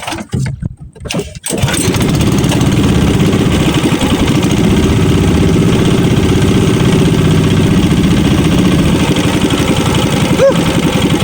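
A fishing boat's engine starts up after a moment of scattered noise and settles into a loud, close, steady idle, a chugging drone that runs on evenly to the end.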